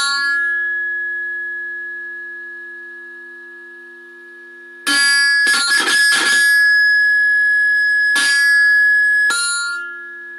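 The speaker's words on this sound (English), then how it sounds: "And you get a nice bit of feedback there now." Electric diddley bow feeding back through its amplifier: a steady, loud sustained tone over a low mains hum, then bursts of bright ringing noise and sharp re-struck accents that flare and fade over several seconds.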